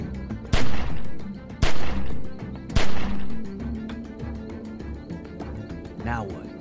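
Gunshots in The Walking Dead 400 Days game, three loud sharp cracks about a second apart with ringing decays, followed by quieter ambient game sound and music.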